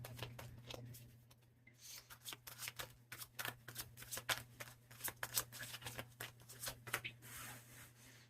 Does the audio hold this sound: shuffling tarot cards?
yes